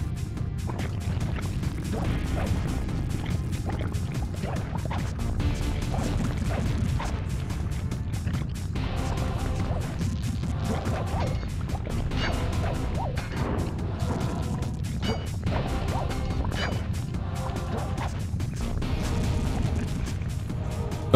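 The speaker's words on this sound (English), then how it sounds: "Smashing those gears with your cane." In the Sly Cooper video game, a cane repeatedly smashes gears in a lava level, producing dense clanking metallic crashes over a continuous loud rumbling game soundscape, with no talk.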